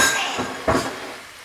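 Steak fajita meat is stirred in a pan, with scraping and clinking of a utensil against the pan; one sharper knock stands out midway, and no one speaks.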